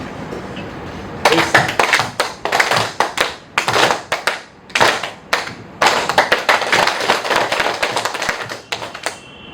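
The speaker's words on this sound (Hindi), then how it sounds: "हमको ताली बजानी है, लेकिन बस एक चीज़ का ध्यान रखना है कि आपको मेरी फ्रीक्वेंसी के हिसाब से ताली बजानी है" A group claps together at a success-habits workshop, following the leader's changing pace. The clapping is loud and sharp, coming in rhythmic bursts that speed up and pause several times over roughly eight seconds.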